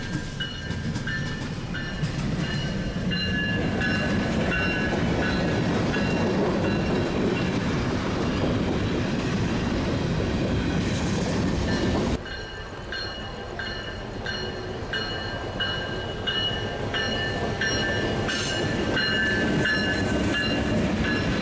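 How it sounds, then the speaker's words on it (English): A Florida Central Railroad train rolls past at night near Pine Castle, Orlando, a steady loud rumble of wheels and clattering railcars that holds for the whole stretch, with a brief drop in intensity partway through. "This train runs every Tuesday, Thursday, and Sunday, southbound at about midnight."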